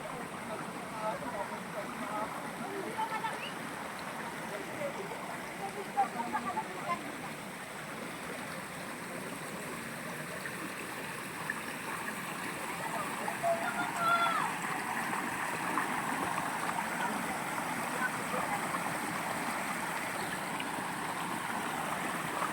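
A stream flows with a steady broad rush of running water, close and continuous, with faint people talking now and then.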